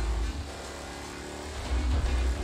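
A car is driven during a race in the video game Mafia, its engine droning and revving steadily with a deep low rumble that swells toward the end.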